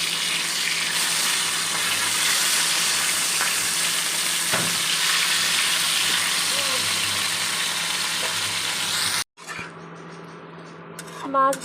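Fish frying in a pan gives a steady, loud, close sizzle that fills most of the stretch, then cuts off abruptly, followed by quieter kitchen sounds and a brief voice near the end.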